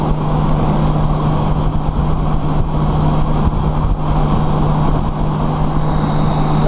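Motorcycle cruising eastbound on the I-90 highway gives a constant, loud droning roar of engine and wind with no letup.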